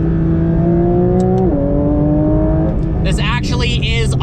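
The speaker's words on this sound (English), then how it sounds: "launch control, foot on the brake, foot on the gas." A 2023 Porsche 911 GT3 RS 992 launches under launch control in track mode, the engine note climbing loudly, dipping at an upshift and rising again, with wind and road roar and a brief voice over the final seconds.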